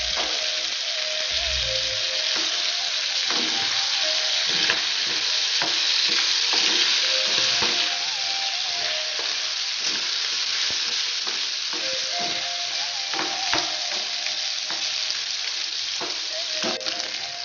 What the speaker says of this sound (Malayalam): ഇതിലേക്ക് നമുക്ക് 1 table spoon ginger garlic paste ആണ് ആഡ് ചെയ്യുന്നത്. മിക്സ് ചെയ്ത് കൊടുക്കാം